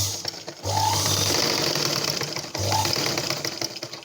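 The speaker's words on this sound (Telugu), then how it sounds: "ఇప్పుడు స్టిచ్చింగ్ చేయడం చూపిస్తున్నానండి." A sewing machine stitches a blouse dart in two close, steady whirring bursts separated by a short pause.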